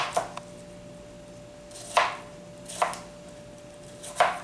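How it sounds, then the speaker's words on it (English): A knife chops apple and salad ingredients into squares on a board, four sharp separate cuts at an uneven pace, close and clear in a quiet kitchen. "I'm going to cut this into squares actually"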